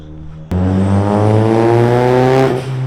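A Nissan S15 Silvia sports car with a Backar aero kit idles, then revs up sharply and holds a loud, steady roar close by before easing off slightly.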